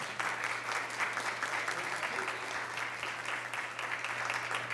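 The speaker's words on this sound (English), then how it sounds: "Let's hear it for our small business owners." Steady applause from a crowd honouring small business owners at an Oklahoma City Council meeting in a chamber, sustained and even for several seconds at moderate loudness.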